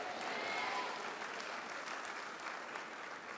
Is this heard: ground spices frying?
no